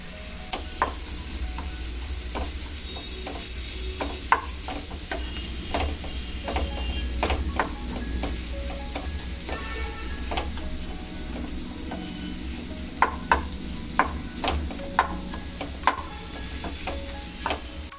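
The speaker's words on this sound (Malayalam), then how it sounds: "നമ്മളിവിടെ സ്മാഷ് ചെയ്ത് വെച്ചിരിക്കുന്ന പനീർ ഇതിലേക്ക് ചേർത്ത് കൊടുക്കാം." Smashed paneer for paneer bhurji fries in a pan with a steady sizzle, while a spatula stirs and scrapes repeatedly, leaving sharp clicks against the metal every second or so.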